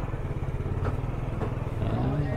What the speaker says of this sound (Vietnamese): Tiếng chặt thịt, những tiếng rao hàng, tiếng xe máy, tiếng trả giá qua lại